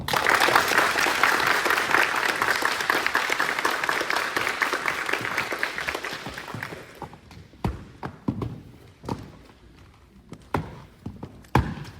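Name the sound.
audience applause for cadets receiving academic ribbons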